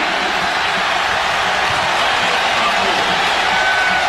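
A college basketball arena crowd roars steadily after a bench player's corner three-pointer for Alabama against Georgia, a dense, loud, sustained wash of cheering with no break.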